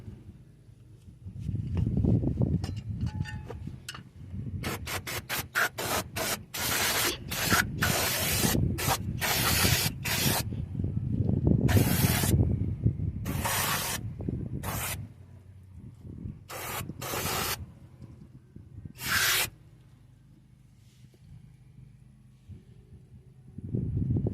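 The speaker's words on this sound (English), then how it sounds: "I'm going to go ahead and blast this down with some brake cleaner." Brake cleaner sprays onto the rear brakes of a 2004-2009 Ford F-150 2WD in a series of sharp, loud hissing bursts, some rapid and clipped, others longer, with workshop rumble between them.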